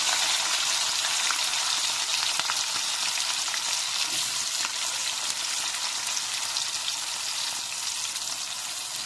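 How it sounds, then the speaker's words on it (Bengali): Slit green chillies and onion fry in oil for a spicy red chicken curry, a close, even, crackling sizzle with faint stirring, continuous and without voices. "প্রথমে আমি দিয়ে দিচ্ছি কিছু কাঁচা লঙ্কা চেরা কড়া, দেওয়ার পরে দিয়ে দিচ্ছি কিছু পেঁয়াজ।"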